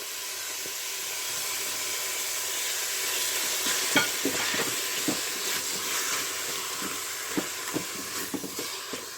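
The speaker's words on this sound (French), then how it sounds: "J'ajoute ensuite les oignons" Onions go into a Cookeo multicooker and sizzle steadily, the hiss building gently, with scattered stirring clicks and scrapes later on and no voices.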